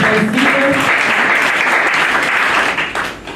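Applause for members of an NGO committee at an official public event, a dense burst of clapping from a gathered audience that fills the space and then tails off near the end.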